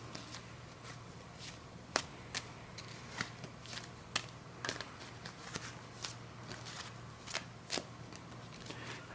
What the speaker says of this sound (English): I'm going to go ahead and start cutting these cards